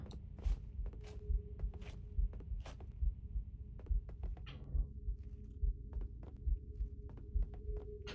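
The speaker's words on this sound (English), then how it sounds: "I'd love a health kit so that I can stop this heart beating noise." Low-health heartbeat warning in Halo Combat Evolved, a steady double-thump pulse repeating about once a second throughout, heavy and close over a faint background hum.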